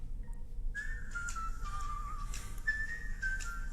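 A lone whistled tune, clear sliding notes held and gliding between pitches over a low steady background hum.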